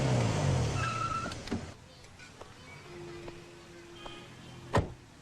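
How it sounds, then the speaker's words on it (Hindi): A car in a comedy action film scene slows and comes to a stop, its engine rumble loud at first and then dropping away into quieter idling, with a sharp click near the end. "अरे एक मिनट गाड़ी रोको।"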